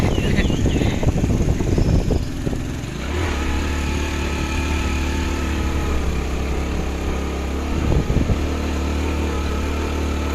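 A motorcycle labors up a steep village hill road, its engine holding a steady droning hum with a few brief surges under a rough, gusty rush of wind or road noise at the outset. No one speaks.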